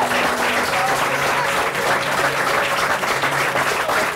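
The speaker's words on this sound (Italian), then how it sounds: "Facciamo un bel applauso." A crowd applauds at a celebration for a champion American football team, a loud, continuous clatter of many hands with faint tones and murmurs underneath.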